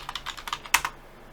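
Computer keyboard keys tapped in a quick, close burst of several light clicks, one sharper stroke near the end, then quiet.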